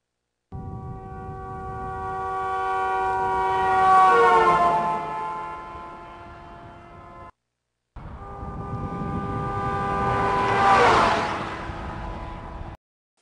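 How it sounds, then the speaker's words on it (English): A van passes twice, its engine tone rising as it approaches and dropping sharply in pitch as it goes by. The second pass is louder. "that change in pitch that you heard as the van was driving by is called the Doppler effect"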